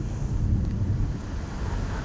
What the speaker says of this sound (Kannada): ತಣ್ಣಗೆ ಗಾಳಿ ಬೀಸ್ತಿತ್ತು.